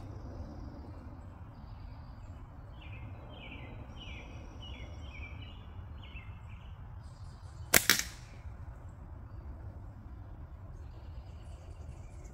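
A slingshot fires a single shot of 1/4-inch (6mm) steel ammo at a can, a sharp snap and metallic hit standing out against quiet outdoor background with faint birdsong.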